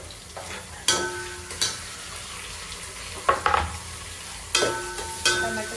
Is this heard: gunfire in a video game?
no